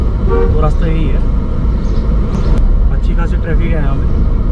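Busy road traffic in a market street near Mamleshwar Mahadev Temple in Mamel, Karsog, with short car horn toots and engine noise under continuous nearby talking.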